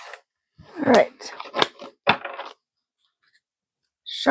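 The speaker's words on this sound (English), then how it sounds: "Shuffle up the cards a little bit." Playing cards shuffled by hand at a table, a few quick riffling and snapping bursts with clicks separated by short pauses, close and fairly quiet, with no talking.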